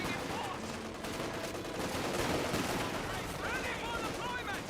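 Battle gunfire in Company of Heroes 2, with mixed rifle and machine-gun bursts and distant explosions forming a busy, continuous wash, and faint voice-like unit chatter mixed in.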